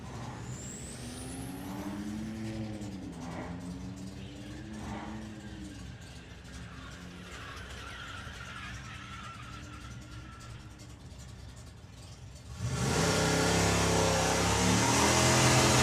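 An Audi drag car at a drag strip accelerates hard, its engine rising through several gear-like pitch sweeps at a distance, then a loud broad roar surges in at the end.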